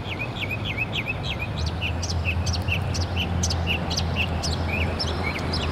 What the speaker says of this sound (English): This is about the happiest bird I've ever heard in my life.